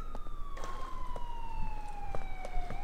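Police car siren in the video game Grand Theft Auto IV, a steady wailing tone gliding slowly downward, loud and close, with faint game noises and clicks beneath it and no talk.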